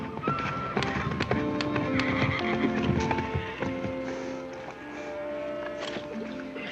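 A horse whinnies repeatedly over a busy background of clopping hooves and scattered clatter, fairly close and moderately loud.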